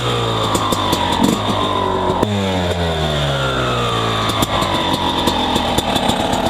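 Two-stroke dirt bike fitted with a Keihin PWK Airstriker 36S carburetor and JD jetting kit, loud close engine revving under quick throttle blips, pitch rising and falling sharply, alone without voices.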